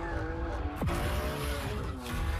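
A high-performance race car skids hard, tires squealing in sweeping pitch bends over a loud, continuous engine roar, close and intense with a second squeal near the end.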